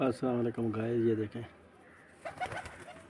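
A black pigeon coos softly and briefly under a man's greeting, the bird's low call faint beneath the talk.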